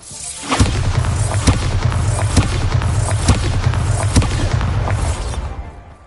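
A Bombarda spell in Hogwarts Legacy goes off as a loud, rumbling explosion, a sustained deep boom with crackling debris that holds for several seconds before fading.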